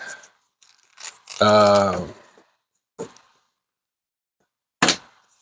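Model railroad track with attached roadbed being ripped apart into two pieces, giving a short, close tearing burst with a few scattered crinkles and taps before and after, in an otherwise quiet room.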